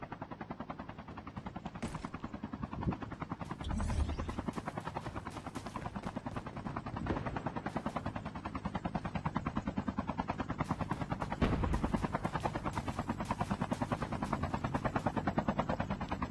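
Helicopter rotor chopping steadily throughout a Call of Duty Mobile battle royale match, a continuous loud rhythmic thumping with occasional gunfire bursts layered on top.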